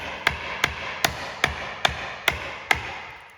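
A chisel is struck with a mallet to flake waste timber out of a halving joint already cut down with a tenon saw, giving seven sharp, evenly spaced knocks with no talk.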